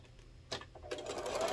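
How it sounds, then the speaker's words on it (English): Sewing machine back-stitching the corners of a fabric car trash can, a short burst of rapid mechanical stitching ticks that starts abruptly after a faint click, close and fairly quiet. "Back stitch where those corners are"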